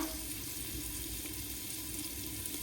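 A tempering sizzles in a cooking pot for a chicken dish, giving a quiet, even hiss of frying oil that holds steady throughout without any voices.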